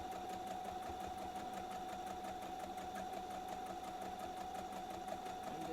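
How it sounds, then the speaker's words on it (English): A sewing machine stitches fabric for a reversible bucket hat, its motor whirring steadily with a fast, even needle rhythm. The sound is continuous and fairly quiet throughout. "sewing right along"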